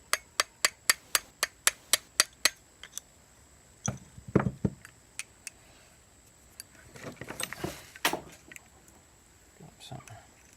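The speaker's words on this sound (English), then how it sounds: "So we'll tap on it a little bit with a hammer." Hammer tapping on a Stihl MS250 chainsaw part during an aftermarket piston and cylinder rebuild: a quick run of about ten evenly spaced sharp metallic taps, followed by scattered knocks and handling clatter.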